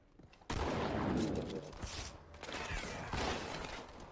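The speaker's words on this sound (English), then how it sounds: "Shotgun's very good against them." Shotgun blasts against the Flood in Halo 2 Anniversary gameplay, with several loud booming shots and rattling combat noise following a quiet start, dense and continuous.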